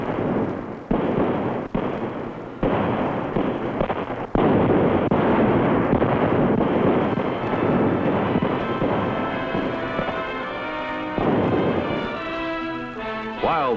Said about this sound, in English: And a brilliant fireworks display sends us on our way.